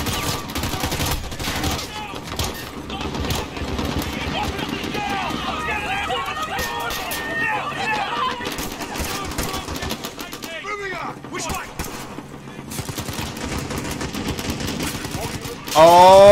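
Rapid gunfire and machine-gun bursts from Call of Duty Modern Warfare multiplayer gameplay rattle continuously underneath excited talking, with a loud burst at the very end.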